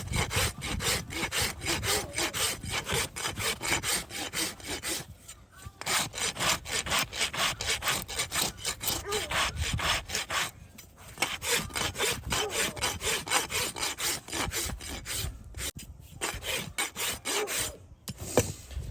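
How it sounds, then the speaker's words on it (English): A rasp files a horse's front hoof during trimming, rhythmic rough scraping strokes repeated in quick runs with brief pauses, close and distinct with no talking. "Then we'll come back here with the rasp and"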